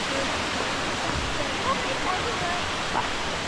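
Kuang Si waterfall in Laos pours in a steady, broad rush of falling water, a constant hiss that fills the whole stretch without pause.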